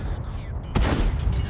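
A single loud tank gun shot booms out in World of Tanks, fired by a Chinese tier 10 tank destroyer, followed by a rumbling, crackling tail of battle noise over low background din.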